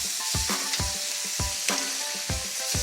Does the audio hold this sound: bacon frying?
yes